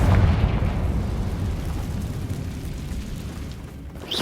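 A Confringo blasting spell explodes in Hogwarts Legacy with a loud, close boom at the start, then a long rumbling decay that fades over several seconds, with no voices.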